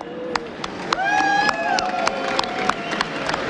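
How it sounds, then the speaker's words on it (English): A crowd at a League of Legends esports event cheers and claps over a steady roar, close and fairly loud, with a voice speaking over it. "Crowd, can you cheer for her?"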